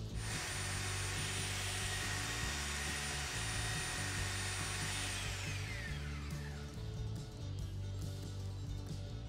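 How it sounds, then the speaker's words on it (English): A power tool smooths the cut plastic of a Canon EF-S lens mount in a steady, high-pitched whir that runs loud and close, then winds down with a falling pitch partway through. "Now that you took off the extrusion, you gotta smooth it out."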